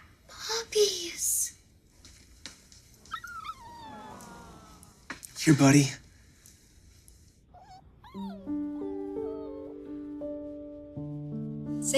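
Thin, high whimpers and squeaky whines from young dogs come in short bursts between a person speaking softly, with gentle background music rising near the end.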